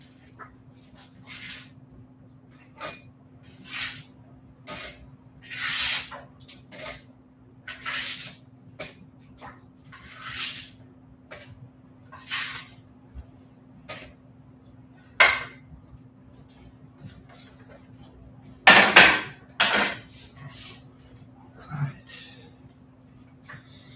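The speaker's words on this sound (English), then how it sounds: "Hang on, I'm scraping cookies." Freshly baked cookies being scraped loose in a home kitchen: a series of short, scratchy scrapes and light clinks spread over the stretch with pauses between them, and one louder clattering burst near the end.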